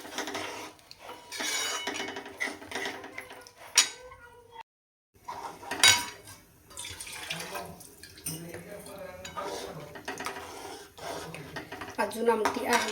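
A spoon stirs amti, a spicy drumstick (shevga) dal curry, in a metal pot, giving scattered clinks and scrapes with a splash of water partway through, while someone talks over it.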